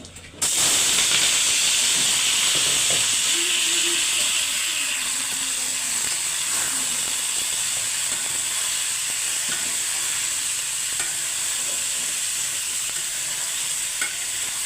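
Steady loud hiss of steam from rice cooking in a covered pot, continuous and even throughout with faint kitchen clatter beneath.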